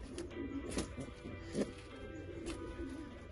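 A female pigeon attacks near its nest with a few soft coos and wing sounds, close and fairly quiet, with low background noise.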